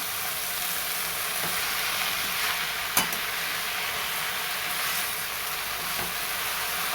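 Green math (amaranth) leaves sautéed in a pan, a constant sizzle with stirring scrapes and one sharp clink of a utensil against the pan midway, close up with no voices.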